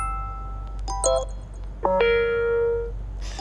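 A WhatsApp message notification tone plays alone as a short preview: a few brief chiming blips, then a clear ascending pair of tones ending in one sustained bright note, followed by a faint soft rustle.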